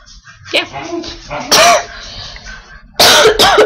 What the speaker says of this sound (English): Well, he's coughing.